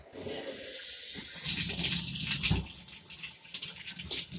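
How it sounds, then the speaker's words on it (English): Water runs steadily from a tap or shower while henna dye is rinsed out of hair, a continuous splashing rush that swells and shifts as the stream hits hair and basin. "you're gonna rinse your hair."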